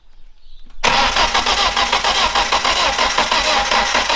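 A BMW 316 turbo car's engine cranks and catches after a near-silent pause, then keeps running loud and close with a steady pulsing drone for several seconds.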